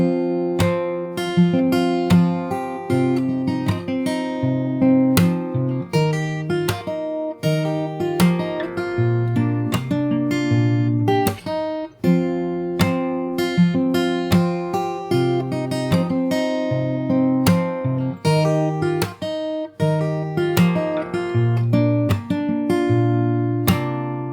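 Fingerstyle acoustic guitar plays the chorus of a song, steady plucked chords and melody notes with clear repeating rhythm, close and alone without any voice.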